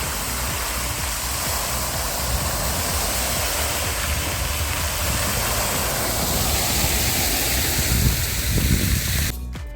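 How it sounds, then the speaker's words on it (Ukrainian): A city fountain in Odesa running at full power, a dense and steady roar of spraying, falling water close by that fills the whole span before cutting off abruptly at the end. "Сьогодні фонтан вімкнули на повну міць."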